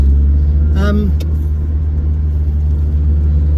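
A car engine drones steadily with a low rumble from inside the moving vehicle, while a brief voice or whine rises over it early on.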